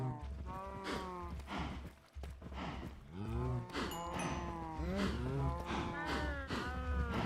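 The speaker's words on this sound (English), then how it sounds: "The cow farm is coming along." Cows on a Minecraft cow farm moo repeatedly, with several drawn-out, overlapping moos at close range against a low, constant background hum.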